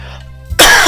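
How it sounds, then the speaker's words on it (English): A single sharp cough bursts out close to the microphone after a brief quiet moment. "As I cough and burp into the fucking microphone."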